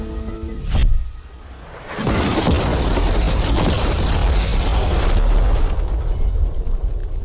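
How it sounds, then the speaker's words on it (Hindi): A huge explosion blows up an ordinary car carrying mannequin passengers, with a sharp blast followed by a long, loud roaring rumble of burning and debris that carries on for several seconds. "चलो उड़ाते हैं एक नॉर्मल कार को और देखते हैं कि पैसेंजर्स बच पाते हैं या नहीं"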